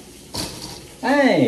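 A toaster set to 2 out of 6 finishes and pops up with a single short mechanical clack and rattle nearby, followed immediately by a person's loud exclamation.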